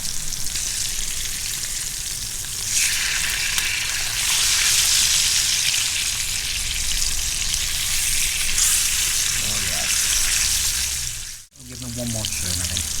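Food fries in a small pan on a camping stove over moderate heat during an overnight garden tent test, a steady close sizzle running throughout with a brief break near the end and faint talk beneath.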